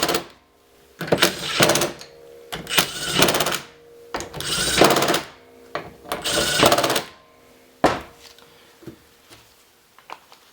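Pneumatic impact gun driving in cam gear bolts on a Toyota 2JZ/1JZ VVTi engine, heard as several loud, rattling bursts of a second or two each with short gaps between them, followed by a few quieter, shorter hits.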